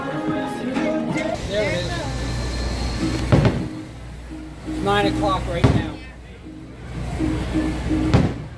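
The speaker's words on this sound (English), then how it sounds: "We wanna watch the fireworks." Fireworks at a Disney World finale, three sharp distant booms spaced a few seconds apart, heard under crowd chatter and voices.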